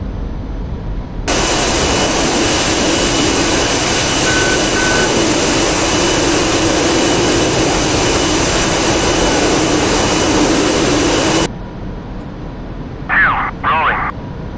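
Jet aircraft on its takeoff roll in the DCS World flight game, a loud steady engine roar that starts suddenly, holds for about ten seconds, then cuts off, followed by quieter cockpit ambience with a brief voice.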